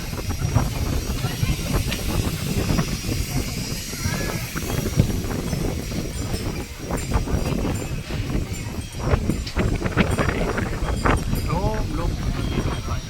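Wind buffeting the microphone outdoors at Wat Arun temple in Bangkok, a steady broadband rush with gusts, while people talk nearby.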